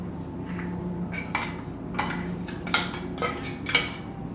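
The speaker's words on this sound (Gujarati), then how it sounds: "આપણે એટલું એને નીકાળી લઈશું ચમચીથી" A spoon scrapes and clinks against a glass of thick mango lassi in several quick, separate strokes, quiet against a faint steady hum.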